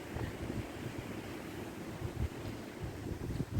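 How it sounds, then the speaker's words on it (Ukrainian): Steady wind rushing with a low, rumbling texture and occasional gusts, continuous and fairly faint, no voices. "Вітер шумить."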